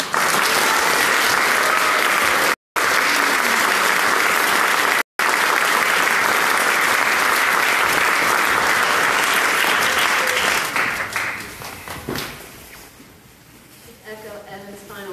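A graduation ceremony audience claps in a sustained burst of dense applause, loud and continuous for about ten seconds before fading into scattered clapping and murmuring voices.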